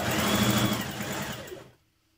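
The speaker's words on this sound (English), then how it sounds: "So stitch all the way down the side of the leg." A sewing machine stitches down the side seam of a jumpsuit leg with a steady, fast whirring hum, close and loud, then stops abruptly.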